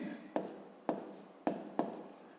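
Numbers are written by hand during a fifth-grade maths exercise, heard as four quick, faint pen strokes tapping and scratching on paper in an even rhythm, close up and alone in a quiet room.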